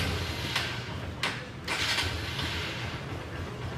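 A Honda XR 150L motorcycle, a 2025 model, is started with its electric starter: a steady mechanical whir and creak with brief clicks, heard close and alone.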